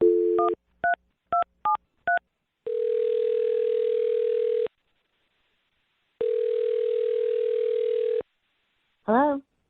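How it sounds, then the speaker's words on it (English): A quick series of touch-tone beeps is dialed, then two long ringback tones sound with a pause between, ending in a brief warbling tone. "I'm going to dial her phone number right now."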